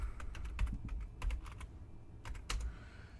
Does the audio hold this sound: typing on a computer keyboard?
yes